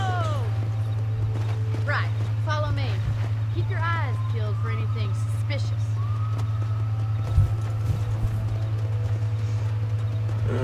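Horse hooves clip-clop steadily in Red Dead Redemption as riders head out from a ranch, a constant rhythmic patter under scattered voices and a low steady hum, with a faint whinny-like cry midway.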